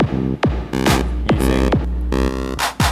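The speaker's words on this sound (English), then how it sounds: "this is just a basic synth patch, but I'm controlling, say, the cutoff here" Basic synth patch played from AlphaSphere pads, its filter cutoff swept by the pads: a series of loud, buzzy sustained notes, each opening with a sharp swooping attack, repeating in an irregular rhythm with no talking.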